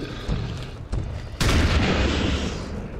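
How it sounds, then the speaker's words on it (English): Grenade blast in the video game XCOM 2, a short thump and then a loud, broad explosion that rolls on for over a second. "we're gonna grenade these two guys"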